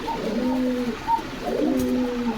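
Pigeons cooing at a pigeon seller's coop in Bogura, two soft, throaty coos close by, separated by a short pause.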